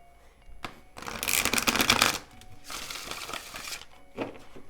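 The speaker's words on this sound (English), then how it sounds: "So they rifle shuffle beautifully," Two rapid rifle shuffles of tarot cards, each a fast riffling flutter up close, with light card handling between them and a soft tap at the end.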